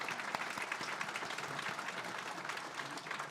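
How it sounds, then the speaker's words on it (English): Guests at a Westchester health fundraising dinner applaud the sponsors with a sustained round of many hands clapping, a dense, even crackle from a large room with no speech over it. "How about a nice round of applause for all of our great sponsors?"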